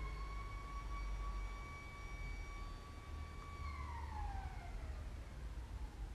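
A steady electronic alarm tone wails inside an abandoned party hall, holding a pitch and then sliding downward, sounding somewhat distant over a low rumbling background.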